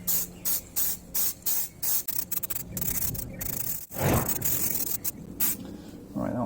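Aerosol can of Hammerite metal paint sprayed in short repeated bursts, then a longer continuous hiss, close and loud with no talking.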